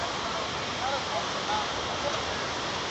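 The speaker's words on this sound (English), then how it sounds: "When water is flowing in such a big and continuously, it is a big waterfall" Big waterfall with water flowing continuously, heard as a steady broadband rush with no breaks, with faint speech on top.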